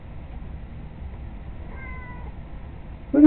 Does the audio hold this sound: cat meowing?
yes